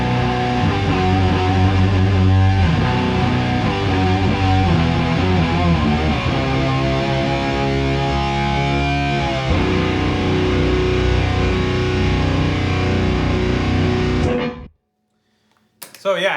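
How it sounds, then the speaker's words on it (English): An electric guitar runs through a Pitchfork pedal set an octave above with distortion, playing a loud, sustained, buzzing riff for about fourteen seconds before cutting off abruptly into silence, followed by a brief burst at the end. "The pitchfork up here I have set always on the octave above setting"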